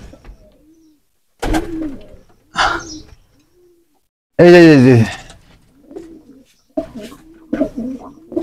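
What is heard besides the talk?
pigeons cooing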